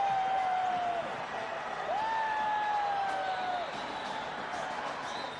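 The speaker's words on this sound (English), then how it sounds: "And the Indian supporters have plenty to cheer about." Indian supporters cheer at a 2003 Cricket World Cup match against New Zealand, a steady, far-off stadium roar with long whistle or horn tones sliding over it throughout.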